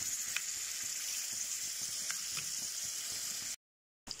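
Diced peeled tomatoes frying on top of fried eggplant in a pan for yellow koshari, a steady close sizzle with faint pops that cuts to silence near the end before briefly resuming.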